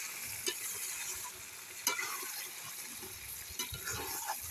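Chicken being stirred and sautéed in a pan for fried rice, a steady sizzle with scraping stirs and a few sharper clinks of the utensil against the pan, close up and without talk.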